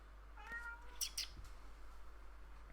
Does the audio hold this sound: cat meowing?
yes